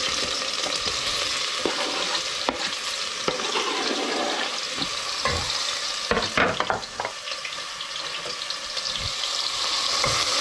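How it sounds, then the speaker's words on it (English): Onions sweat in a frying pan for a Hungarian potato dish, giving a continuous soft sizzle with occasional stirring clinks and scrapes throughout, fairly close and without talk. "just gonna sweat off the onions."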